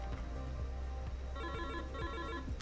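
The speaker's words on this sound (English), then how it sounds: "Oh, I guess that was the phone ringing for that." A telephone rings inside a flight simulator game, a repeated electronic trill in short bursts, fairly faint over a steady cockpit hum with no talk.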